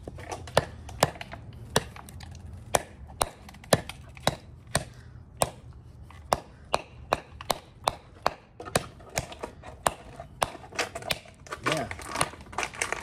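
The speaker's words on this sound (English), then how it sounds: "Chop into it a little bit here." An $18 Ozark Trail knife chops into wood in a rapid series of sharp, close woody knocks, dozens of blows in an uneven rhythm, with a voice heard talking at moments.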